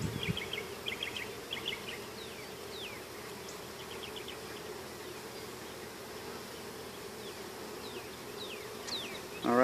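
Honeybees fresh from a package buzz steadily close by, a continuous droning hum with faint high chirps, no voices.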